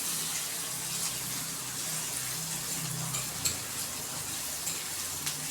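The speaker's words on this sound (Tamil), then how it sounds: "வெங்காயத்தை நல்லா வதக்கிக்கோங்க" Chopped onions sautéing in a pan for a Tamil egg podimas, giving a soft, steady sizzle and hiss with faint low bubbling and an occasional small clink, quiet and without talk.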